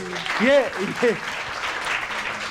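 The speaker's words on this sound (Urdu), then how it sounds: "بجائیں تالی" A studio audience at a Ramzan transmission claps steadily while a voice speaks over it near the start. The clapping is moderate and continuous and sits behind the talking.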